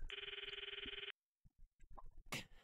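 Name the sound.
phone call ringing in the video game Steins;Gate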